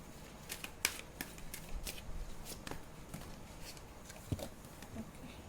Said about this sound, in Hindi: आगे थोड़ा सा स्पेस कभी कभी कम रहता है, तो मैं यहीं पीछे शफल कर लेती हूँ।